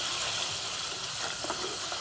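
Coconut oil sizzles steadily in a hot pan, a dense continuous crackle with a few brighter pops, close and alone with no talking.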